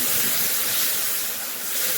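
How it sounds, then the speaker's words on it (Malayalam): Boiling water poured from a jug into a cooking pan in a home kitchen, a steady bright hissing splash that holds throughout, dips briefly near the end, then resumes. "അപ്പം ഞാൻ ജഗ്ഗിൽ നല്ല തിളച്ച വെള്ളം ഇതിലേക്ക് ഒഴിച്ചു കൊടുക്കുകയാണേ."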